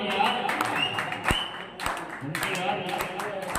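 Audience clapping at a sobriety birthday celebration, a few scattered bursts of applause under ongoing talk and background chatter.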